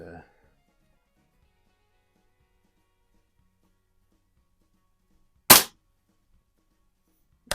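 A Hy-Score model 819 air pistol fires one sharp, close crack in an otherwise quiet space, with a second abrupt snap at the very end.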